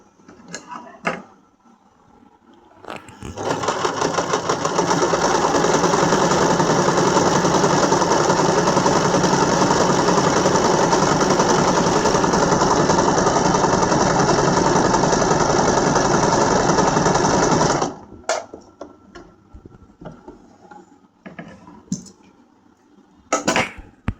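A Singer SM024 sewing machine stitches a decorative pattern with a steady, loud mechanical whirr that runs for about fifteen seconds, with soft clicks before and after.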